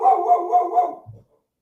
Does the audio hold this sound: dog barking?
yes